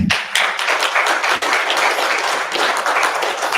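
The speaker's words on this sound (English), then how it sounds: "Give John a clap, please." A roomful of people claps at a boxing team reunion, sharp individual hand claps layered into a loud, close burst of applause that carries on steadily.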